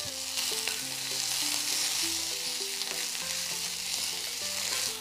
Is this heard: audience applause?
no